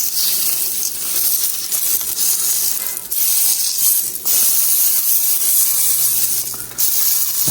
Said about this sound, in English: then you sear off the edges of your steak first